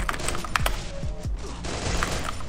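Desert Eagle pistol shots in Garena Free Fire, a few sharp gunshots in quick succession amid busy game background noise, with no talk over them.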